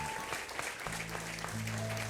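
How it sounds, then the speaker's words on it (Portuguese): A church congregation applauding during a worship service: steady crowd clapping throughout, with sustained keyboard-like tones swelling beneath it partway through. "Pode aplaudir o Senhor,"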